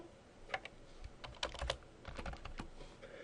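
Keys on a computer keyboard are pressed while entering data into an Excel spreadsheet, a quick irregular run of soft clicks and taps, close and fairly quiet, with no talking.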